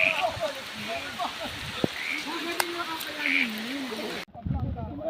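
Steady rain pouring down outdoors, a dense hiss of drops on surfaces with some gurgling runoff, while people talk nearby and a voice carries over the downpour before it cuts off near the end.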